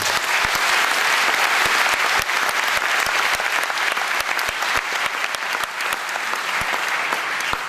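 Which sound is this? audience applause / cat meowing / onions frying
audience applause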